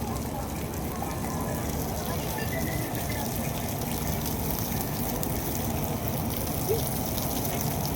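A fountain at SM Mall of Asia gushes and splashes continuously, a dense, even rush of water filling the scene with no pauses.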